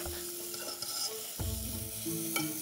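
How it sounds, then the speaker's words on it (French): Onions cooking in butter in a pan give off a steady sizzle. A stirring scrape comes in around the midpoint, and the sound stays close with no talking. "Donc là, on est en train de bien cuire les oignons."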